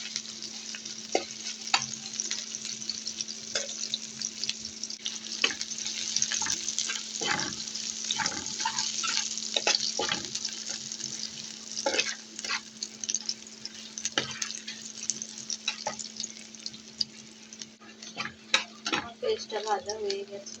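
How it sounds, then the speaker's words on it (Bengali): Chopped onions fry in a pan with a steady sizzle and crackle and scattered stirring clicks of a utensil, lasting throughout at a close, moderate level. "পেঁয়াজটা আমি ভালোভাবে ভেজে নেব।"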